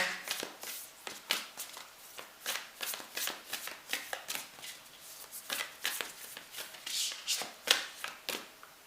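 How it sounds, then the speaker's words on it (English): Tarot and oracle cards being shuffled by hand, a steady run of crisp riffling slaps and flutters close up, alone with no talking. "Let's pull an oracle card as well."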